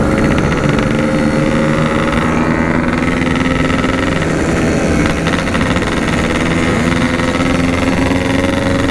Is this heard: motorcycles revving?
yes